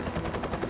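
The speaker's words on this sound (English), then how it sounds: "Helicopter's still one of my favourite sounds." A helicopter heard on Hinchinbrook Island: rapid rhythmic rotor thumping, moderately loud and continuous, with a broadband wash over the beats.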